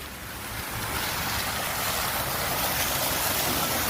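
Waterfalls at Laval-sur-le-Lac produce a steady, broad rushing roar that builds slightly in the first second and then holds loud and constant, with no voices.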